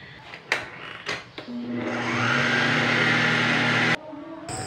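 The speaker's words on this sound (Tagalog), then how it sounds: "At i-mix natin sa ating mixer ng high speed hanggang 5 minutes." An electric mixer whirs at high speed through margarine icing, starting after a few knocks and thumps, then holding a steady loud motor drone with a tonal hum before cutting off abruptly near the end.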